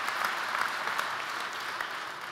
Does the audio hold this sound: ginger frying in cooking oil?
no